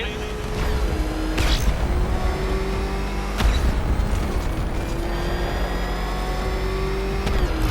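The Batmobile's engine in Batman: Arkham Knight revs and roars steadily and loudly, its pitch climbing and shifting through gear changes over continuous game noise.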